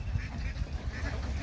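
Ducks on a farm, being lifted from the water onto a raised bamboo platform, give low, nasal quacks in a loose, continuous chatter nearby, with faint background noise.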